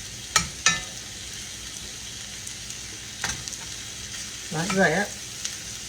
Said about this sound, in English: And kind of mix that flour in there.